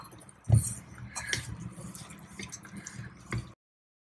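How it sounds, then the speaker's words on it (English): Water is poured little by little into a thick raw banana bajji batter and mixed, making quiet, wet squishing and dripping sounds with a couple of soft thuds and no talking. "Next, add water little by little so that you get a thick batter."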